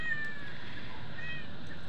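A begging cat meows for food among ducks pecking at eggs, its faint, thin cries rising a little above a steady background hiss.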